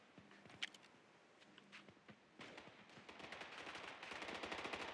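Rifle fire in the military shooter Squad, heard fairly faintly: a few scattered single shots at first, then the fire grows denser and ends in rapid automatic bursts.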